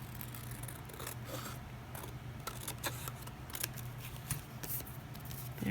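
Scissors cutting through paper for a lap book, a series of close, quick snips and rustles at uneven intervals in a quiet room.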